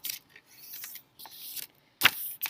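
Paper being folded and creased by hand for a paper lantern, crisp dry crackles and sharp swipes in short separate bursts, close and alone.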